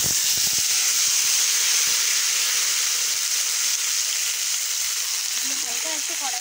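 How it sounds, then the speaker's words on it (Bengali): Boiled cauliflower stalks tipped into hot oil in a kadai tempered with dried red chilli and five-spice, giving a loud, steady, broadband hiss of steam and sizzling that lasts throughout, with a faint voice near the end. "এরপরে এই সেদ্ধ করা এইগুলো ঢেলে দেবো।"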